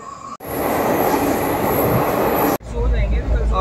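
A train at an Indian railway station, on a trip from Delhi toward Dehradun, makes a loud, close, steady rumbling roar that starts and stops abruptly over about two seconds. Softer voices and station noise follow.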